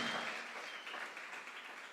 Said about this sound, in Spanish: si va a aplaudir, apláudale con ganas